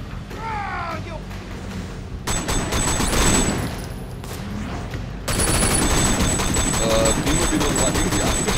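Gunfire rattles in the video game Sleeping Dogs, dense bursts of shots over game engine noise and music, loud and continuous with a jump in intensity partway through.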